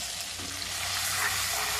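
Onions fry with garlic-ginger paste in a hot tempering while being stirred, giving a steady, soft sizzle close by with no talking.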